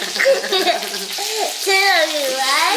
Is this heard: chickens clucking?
no